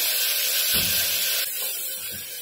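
Chopped tomatoes drop into hot oil with garlic in a home kitchen pan, setting off a loud, steady hiss and sizzle with a soft thump as they land.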